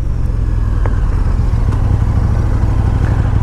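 Loud, close idle of a 2019 KTM 1290 Super Duke R motorcycle engine, an even, deep throbbing rumble held steady throughout with a few faint clicks and no voices.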